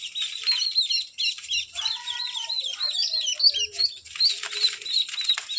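Duckling and quail chicks in a brooder, with a dense stream of high-pitched peeping and chirping calls from many birds at once, close and continuous, with no talking.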